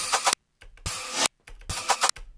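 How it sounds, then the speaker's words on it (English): Short bursts of white-noise effects in an electronic dance track, three or four loud hissing sweeps separated by brief gaps, with a low thump under some bursts. "looks like little white noise things"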